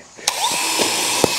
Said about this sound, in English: Let's drill 2 more real quick,